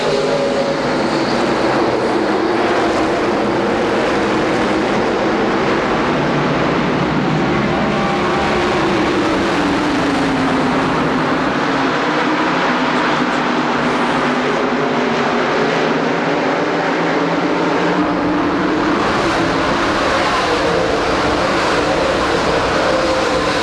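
NASCAR Busch Grand National stock cars racing out of turn four at Indianapolis Raceway Park in 1996, a dense, loud, continuous roar of many engines with crowd noise, sweeping pitch as the pack passes.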